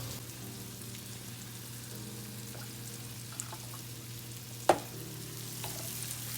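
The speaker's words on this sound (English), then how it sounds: "Look at them onions right there. Just cooking up" Onions cooking in a wok for smothered steak. A faint, steady sizzle sits over a low hum, and one sharp clack of a utensil sounds partway through, with no talking.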